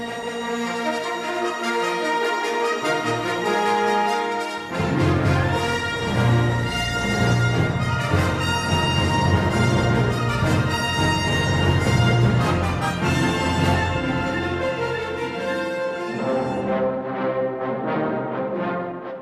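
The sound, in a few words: orchestra playing 1976 film music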